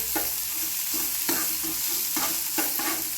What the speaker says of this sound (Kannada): ಉಳ್ಳಿಗಡ್ಡೆ ಹಾಕ್ತೀನಿ ರೀ. ಉಳ್ಳಿಗಡ್ಡೆ ಸ್ವಲ್ಪ ಫ್ರೈ ಆಗ್ಬೇಕು ರೀ.